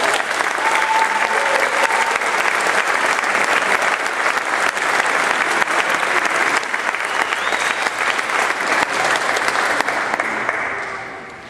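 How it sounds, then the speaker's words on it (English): A crowd claps steadily and fairly loudly at a women-in-aviation event honoring World War II women pilots, the applause sustained throughout and fading at the very end. "Let's give them another round of applause."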